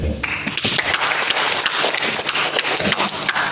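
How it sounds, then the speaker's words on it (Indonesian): Lively applause fills a seminar hall during an anti-corruption talk, many hands clapping densely and loudly in a sustained burst with sharp individual claps standing out. "Tepuk tangan."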